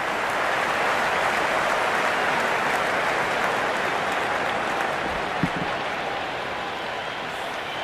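Cricket crowd in a large stadium at an IPL match between RCB and GT in Bengaluru: dense, steady applause and cheering roars evenly throughout, with a single brief thump partway through.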